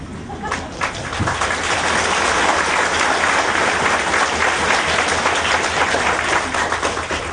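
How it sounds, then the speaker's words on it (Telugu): A large audience at a Guru Purnima spiritual discourse breaks into loud, sustained applause that swells quickly and holds as a dense wash of clapping throughout. "చప్పట్లు మంచి జోరు పోతుంది"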